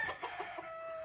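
Gallino gamecock roosters crow faintly in the distance, a drawn-out call with a steady background tone beneath it.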